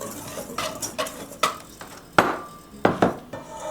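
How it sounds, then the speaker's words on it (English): A whisk stirs sugar and dry ingredients in a mixing bowl for blackberry cobbler, giving a series of sharp clinking taps and scraping swishes at an irregular rhythm, close and fairly clear with no talking. "I'm just going to give those a quick stir with my whisk here"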